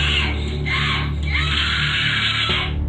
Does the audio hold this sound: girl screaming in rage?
yes